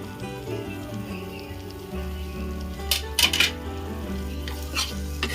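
Jaggery is stirred into flour frying in oil for sukhdi, a steady sizzle under repeated scraping spatula strokes, with several louder metallic scrapes against the pan near the end.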